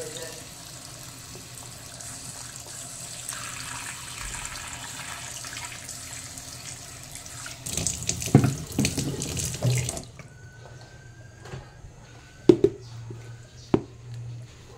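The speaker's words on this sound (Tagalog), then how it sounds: "Lagyan lang po ng kunting tubig." Tap water runs steadily into a sink while fresh crabs are being prepared, a continuous splashing flow that stops partway, followed by a few clattering knocks and brief speech.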